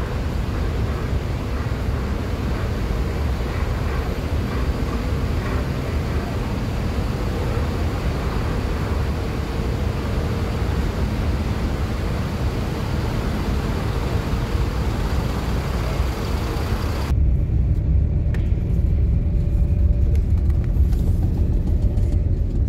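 Lower vehicle deck of a ferry crossing to Sumatra at night, where buses and trucks are parked: a steady loud low engine and machinery rumble fills the space throughout, with the high hiss dropping away near the end.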